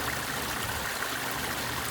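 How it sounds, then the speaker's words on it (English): Water spills over a newly built koi pond waterfall in Lawrenceville, Georgia, a loud, steady splashing and trickling stream that runs unbroken and close up. "we just finished up this pond and waterfall system in Lawrenceville, Georgia"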